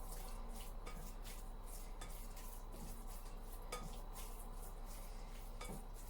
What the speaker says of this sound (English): mixing it with the mayonnaise